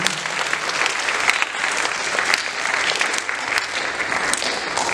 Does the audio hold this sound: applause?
yes